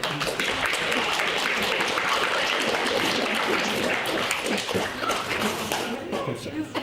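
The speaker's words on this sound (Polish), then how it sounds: "Brawa Dani." Audience applause for the first-place team at a My Little Pony quiz at a fan convention, dense clapping close by with some shuffling, tapering slightly toward the end.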